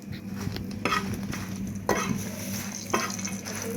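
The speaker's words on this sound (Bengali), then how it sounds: "এই তাওয়ায় আমি মরিচ ভেজে নেব।" Chilies frying on a tawa, a continuous crackling sizzle with a few sharp scraping stirs of a utensil breaking through at irregular intervals.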